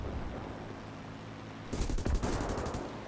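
Rapid burst of machine-gun fire from a Spitfire Mk IIa fighter in the War Thunder combat flight game, breaking in abruptly over a steady engine drone and hammering for about a second before fading back to the drone.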